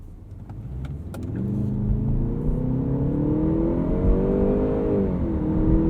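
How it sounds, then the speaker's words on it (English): A 2018 Jaguar E-PACE P250 SE AWD pulls away from a traffic light in dynamic mode, its engine note climbing as it accelerates, heard from inside the cabin as a steady, rising drone after a few faint clicks. "Let's do a little bit of an acceleration pull here once the light turns green."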